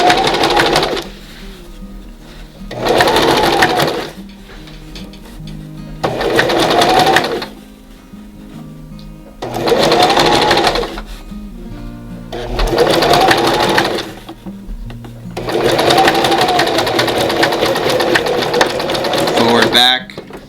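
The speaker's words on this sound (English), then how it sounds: "go forward a couple, go back a couple, and then stitch this. It's called a hem on the bottom of the mask here." A sewing machine stitches the bottom hem of a simple fabric face mask, running in loud, steady bursts of a few seconds each, with pauses between where a voice talks.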